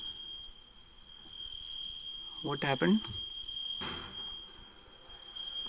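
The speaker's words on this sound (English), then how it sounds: "Fire alarm." A fire alarm sounds in a lecture room as one continuous high-pitched tone that stays unchanged from start to finish, while a person briefly speaks over it.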